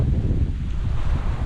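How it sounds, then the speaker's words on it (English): Strong wind buffeting the microphone with a low, rumbling roar, steady and loud for the whole short stretch, on a remote beach campsite in Palawan, Philippines. "it's been very windy over the last couple of days"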